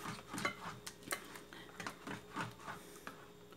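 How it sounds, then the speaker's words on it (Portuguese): A spoon scrapes and clinks against a pot while stirring a pavê mixture, giving repeated soft metallic taps in an uneven rhythm, quiet and close, with no voices. "Mexendo aqui."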